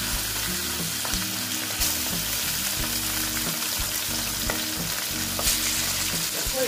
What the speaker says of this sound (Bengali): আর এই যে আমি মাছগুলো দিয়ে দিচ্ছি